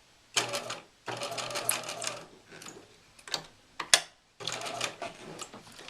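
Sewing machine stitching a curve on practice paper, running in several short bursts separated by pauses with a few clicks between, close and fairly quiet.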